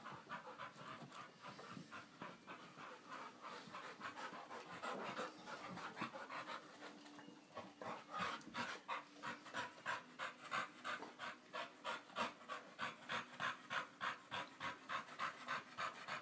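Puppies pant close by in fast, rhythmic breaths that start uneven and settle into a steady quick pulse, soft and breathy with no talking over them.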